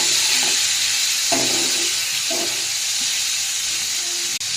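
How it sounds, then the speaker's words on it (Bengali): Prawns coated with salt and turmeric fry lightly in a pan, giving a steady hiss of sizzling oil with a few soft stirring knocks, close and continuous. "চিংড়ি মাছগুলো হালকা নুন হলুদ মিশিয়ে রেখেছিলাম, এটা হালকা করে ফ্রাই করে নেব"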